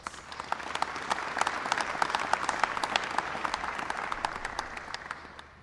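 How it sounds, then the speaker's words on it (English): A large audience applauds at a university white coat ceremony, dense continuous clapping that swells and holds for several seconds before tapering off. "Could you please give him a wonderful round of applause?"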